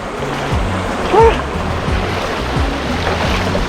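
Strong rushing water at Canding Falls in San Clemente, Tarlac, a steady broadband roar of cold, clear water close by, with a brief splash-like swell near the middle.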